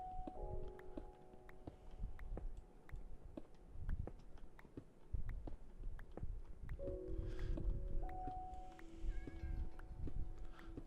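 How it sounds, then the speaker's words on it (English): A Minecraft cat gives several short, quiet meows in two separate bursts over soft background ticks and game ambience. "I hear a cat."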